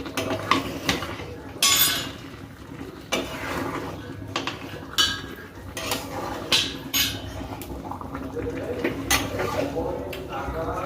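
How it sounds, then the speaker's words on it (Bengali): Meat khichuri stirred in a pot, with repeated scraping and clinking of a utensil against metal in irregular bursts throughout, and voices talking nearby. "এবার আমি একটু ভালো করে মিশিয়ে দেব"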